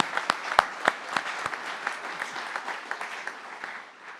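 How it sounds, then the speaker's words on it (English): Applause from an audience at a school's Year 13 honours evening, for the senior leadership team and staff: a steady wash of many hands clapping, with a few sharper, louder claps at the start, lasting throughout and gradually settling. "So I think a bit of a round of applause and appreciation for them."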